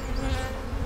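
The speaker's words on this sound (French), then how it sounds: "il y a des milliers d'abeilles autour de nous" Honeybees swarm around hives at an apiary in Chartres, a dense, continuous close buzzing of thousands of insects filling the moment with no talk.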